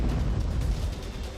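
Deep, rumbling blast in Qom, Iran, that destroyed a housing complex, reportedly from a gas leak; a sustained low roar runs loud through the short stretch, with no voices.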